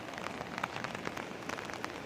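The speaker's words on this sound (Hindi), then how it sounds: "पर बारिशें बहुत हो रही है।" Rain falls steadily in the hills of Himachal, a soft, dense patter on surfaces with scattered drips, fairly faint and continuous with no talking.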